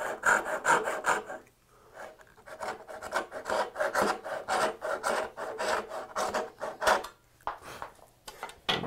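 A hand saw cuts a wooden sunrise dovetail joint with rhythmic rasping back-and-forth strokes, steady and close, with a brief pause partway through before the sawing resumes.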